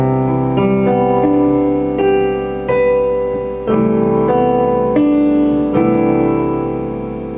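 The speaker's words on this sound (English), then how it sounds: "That's the sound of the Ionian mode." Chords played in the Ionian mode, a series of about eight sustained chords struck in a slow steady rhythm, each ringing out before the next, loud and clear with no talk.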